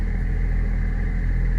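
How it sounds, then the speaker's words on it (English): A car engine with an MHD Stage 2+ tune runs at a steady idle, a continuous low rumble at even volume throughout, with no voices. "in about 10 seconds it'll cruise down to idling"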